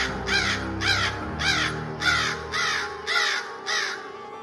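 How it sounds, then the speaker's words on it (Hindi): A crow caws repeatedly, about eight harsh calls in a steady rhythm, loud and fairly close, with a low rumble underneath. "कौवे की आवाज सुनकर"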